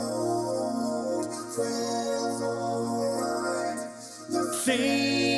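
Lead vocal stacked with vocoder layers whose carrier is driven by MIDI notes chosen to match the song's harmonies, forming sustained chordal tones under the singing; the layered mix plays steadily with a brief dip and swell near the end.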